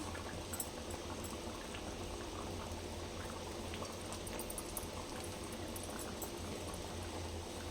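Taro root curry simmering in a pot, a low, continuous bubbling and gentle liquid burble that holds steady and fairly quiet throughout, with no voices over it.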